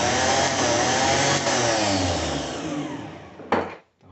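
A starter motor from a Chevrolet Monza or Opel Kadett spins on a bench test with a loud, steady high whir that slowly eases, then cuts off with a brief clunk and falls silent.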